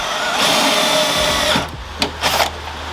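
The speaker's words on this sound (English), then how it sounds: "So I'm going to get my drill and then we'll drill some holes." A drill whines loudly as it bores holes in a Mazda Miata MX-5 drift car during wire tucking, then spins down, followed by a couple of short bursts of drilling.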